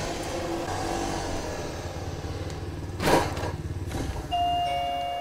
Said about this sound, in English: Front doorbell.